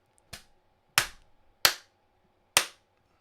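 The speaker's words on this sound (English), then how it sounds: "Just make a clap or something." Four sharp, loud single hand claps spaced unevenly apart, each crisp and isolated against near silence.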